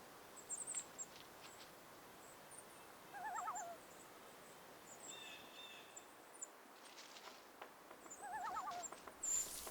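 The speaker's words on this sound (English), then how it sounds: "This barred owl waits for the right moment to swoop down on its prey." Two soft barred owl hoots sound from a distance, several seconds apart, over a quiet night background with faint insect chirps.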